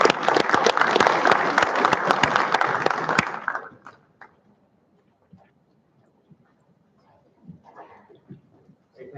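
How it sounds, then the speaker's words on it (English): Audience applause at a DevOps conference talk, a loud dense burst of clapping for about four seconds that stops abruptly, followed by quiet room tone with faint shuffling and stray sounds. "Please give a big round of applause to Shabbat."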